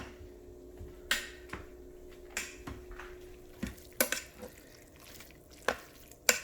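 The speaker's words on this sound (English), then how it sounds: "we're going to give this a stir" Utensil stirring shredded chicken inside an Instant Pot, a series of sharp, irregular scrapes and knocks against the metal pot, fairly quiet and close with no talking.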